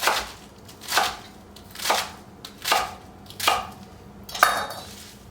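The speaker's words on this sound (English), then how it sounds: "start chopping down" A knife chops through romaine lettuce on a board in six crisp, evenly spaced strokes, each a sharp crunchy thud with short quiet gaps between.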